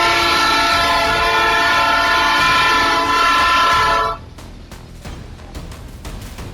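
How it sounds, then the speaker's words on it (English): At a railway crossing in Itirapina, Brazil, an oncoming train's horn blares loud and sustained for several seconds, then cuts off into a rattling clatter of sharp impacts and rolling train noise as it strikes a car stuck on the tracks. "A car got stuck while attempting to cross a railway and collided with an oncoming train"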